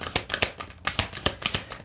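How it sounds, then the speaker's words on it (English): Tarot cards are shuffled by hand in a quick series of crisp, papery riffles and slaps, close and fairly quiet, with no talking. "Shuffle through again."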